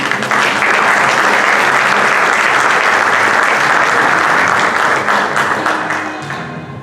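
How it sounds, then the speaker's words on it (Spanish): Warm, sustained applause from an audience welcoming a speaker at a book presentation, loud and dense throughout, tapering off near the end. "qué mejor si lo recibimos con un cálido y afectuoso aplauso"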